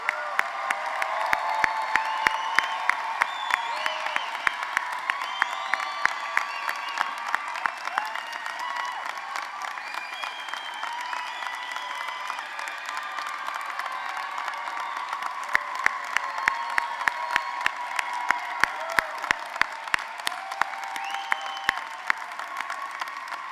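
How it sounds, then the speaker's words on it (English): A ceremony audience gives sustained applause for law graduates at a spring hooding, dense steady clapping with sharp individual claps standing out, continuing for over twenty seconds without speech. "Let's give our graduates another big round of applause."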